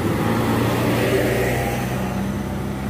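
A Hino tanker truck labours up the steep Bukit Kodok hill, its engine a steady, loud, low drone with tonal hum, continuous throughout and without speech.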